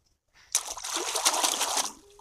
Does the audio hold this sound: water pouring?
yes